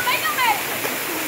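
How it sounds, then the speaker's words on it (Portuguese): Rushing water of the Cachoeira do Caripina waterfall in Felipe Guerra, Rio Grande do Norte, a steady broad roar with a voice speaking over it in this short moment. "Cachoeira?"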